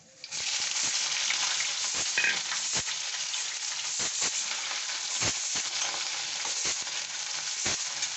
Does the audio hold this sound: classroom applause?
no